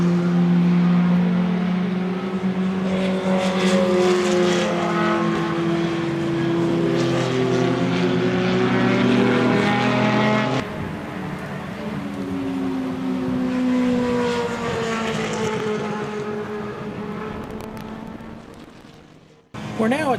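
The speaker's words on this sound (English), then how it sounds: "The Group 2 qualifying session is next for the open wheel cars." Open wheel race cars in a qualifying session at Roebling Road, engines whining loudly as they pass with sweeping rises and falls in pitch, one car following another, with a voice speaking over them.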